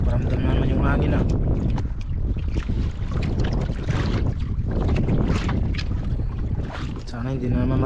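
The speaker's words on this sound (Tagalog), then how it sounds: "Paramdam naman yung hangin ah." Gusty sea wind buffets the microphone on a small fishing boat out at sea, a loud rumbling roar with water sloshing, while people talk over it now and then.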